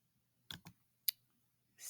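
A few crisp computer mouse clicks sound in a quiet room, short sharp taps spaced apart, close and alone against near silence.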